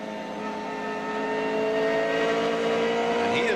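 A BMW M3 GTR V8 race car at a 2001 American Le Mans Series race: a steady high-revving engine drone with strong harmonics that grows louder and holds close, with no talk.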